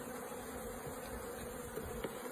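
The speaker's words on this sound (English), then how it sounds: "They're not angry, are they, these bees?" Steady, continuous buzzing of many honeybees close by, a dense droning hum with no voices.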